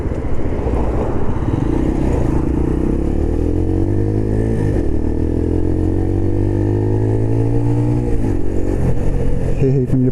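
A 125cc motorcycle rides through traffic, its engine droning loud and close with rising revs as it accelerates, the pitch climbing steadily over a constant rush of road and wind noise.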